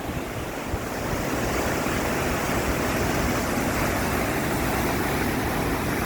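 River water pours down at a dam in a green natural setting, a loud continuous rushing roar with wind buffeting the microphone and no speech.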